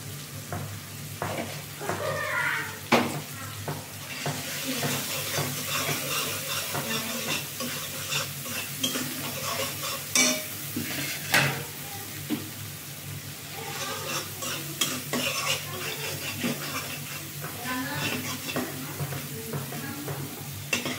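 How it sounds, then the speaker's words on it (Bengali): Spice masala stir-fried in a pan: a continuous, close sizzle with repeated scraping and stirring strokes of a spoon against the pan throughout. "মশলাটা কষাইতে দিয়ে দিই"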